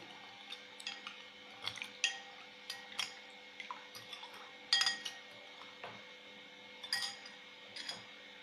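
Salt and spices mixed with a spoon in a bowl: faint, irregular clinks and scrapes of metal against the bowl, scattered sharp taps over a quiet room hum.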